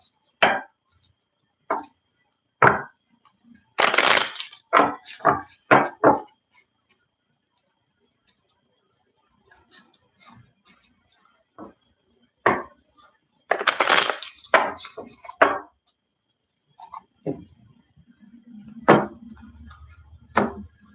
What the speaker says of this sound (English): Spirit's telling me another shuffle and another cut.